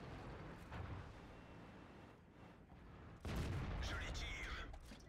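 Artillery fire in a video game, heard as faint distant booms followed by a sudden louder blast near the end, with a voice talking quietly underneath.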